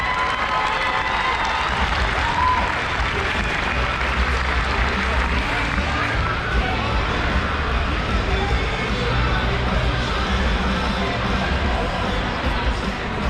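Sustained applause and crowd noise from an audience at a roller derby event, broad and steady throughout with cheering mixed in and a murmur of voices underneath.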